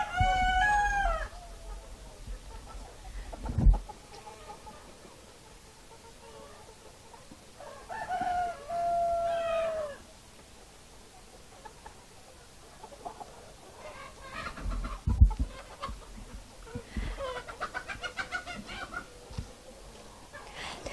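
Chickens and a rooster near a farm in a mountain village, with several loud crows close by, clucking between them and faint background noise.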